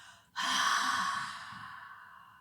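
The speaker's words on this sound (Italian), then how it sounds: "E una lunga e profonda espirazione." Long, deep exhalation during a guided yoga breathing exercise, a sudden breathy rush that starts loud and close and slowly tapers over two seconds, with a soft voice murmur underneath.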